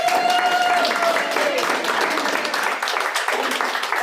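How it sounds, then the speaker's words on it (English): Sustained applause from an audience at the end of an astronomy talk on pulsars, a dense steady wash of clapping throughout with a few voices mixed in. "Can we give Evan Lewis a huge round of applause"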